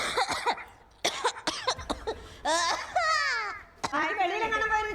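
Several sharp coughs burst out among high, childlike vocal sounds and voices, close and fairly loud, spread across a few seconds.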